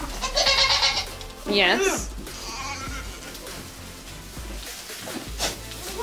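Goats bleat loudly and close by in several wavering calls, with someone speaking to them between and after the bleats.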